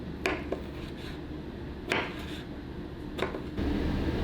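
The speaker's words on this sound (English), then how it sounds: "you just want to start dicing this ginger" Ginger gets diced with a knife, a few distinct chopping knocks spaced apart over a steady low room hum, with no talk.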